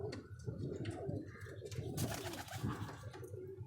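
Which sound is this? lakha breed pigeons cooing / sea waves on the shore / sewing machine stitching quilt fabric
lakha breed pigeons cooing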